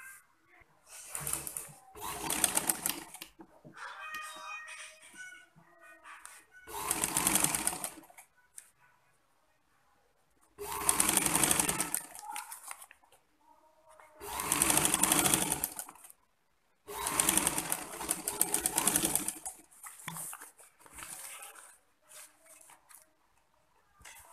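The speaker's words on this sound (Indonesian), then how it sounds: "Kita jahit dari bagian yang atas seperti ini, kita jahit, lalu nanti kita balik." A sewing machine stitches the shoulder and neckline of a blouse in several loud, close bursts of rapid whirring, separated by quiet pauses and short stretches of lighter machine noise.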